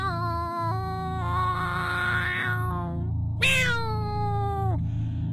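Cats meowing indoors near a home's front door, two clear, drawn-out meows close by over a low background hum.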